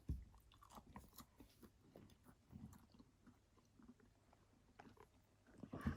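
Someone bites into and chews homemade dried meat jerky snacks, which are crunchy rather than hard; quiet, close crunching and mastication continues across the whole stretch, with a few louder bites near the start and end.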